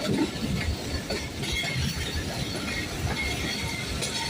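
An Awam Express passenger train runs over the rails in fog and rain, with a steady close rumble of wheels and carriages, faint clatter and brief squeals holding at an even level throughout.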